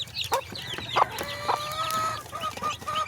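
A mother hen clucks near her chicks, with soft repeated clucks and thin high peeping calls from the chicks in an outdoor farmyard, no talking.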